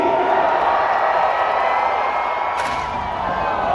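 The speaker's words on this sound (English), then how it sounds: "And the crowd goes crazy" Spectators at a live jousting and sword-fight show at the PNE keep up a steady, loud roar of cheering and whooping that fills the whole stretch.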